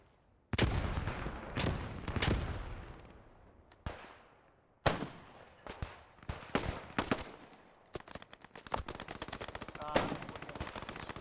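Gunfire in the WWII shooter Post Scriptum: sharp rifle and automatic-weapon shots in irregular bursts, some close and loud with long echoing decays, others quicker and clustered, continuing across the whole stretch without talk.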